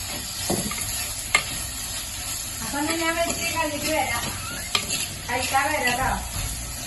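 Fish cooking in a clay pot on a stove gives a constant low sizzle and hiss with occasional clinks, and a person talks over it in two stretches.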